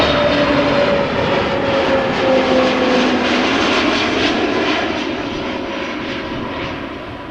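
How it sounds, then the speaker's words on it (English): An EasyJet Airbus A320neo jet arriving at Amsterdam Schiphol Airport, its engine roar loud and broad at first, then slowly fading as the aircraft passes. "EasyJet A320neo arriving from Edinburgh"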